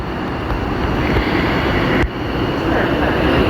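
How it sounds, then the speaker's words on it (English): A London Northwestern Railway service pulls out of Milton Keynes Central for London Euston, a broad continuous rumble with wind noise, loud and steady throughout. "now departing is the 1400 London North Western Railway service to London Euston"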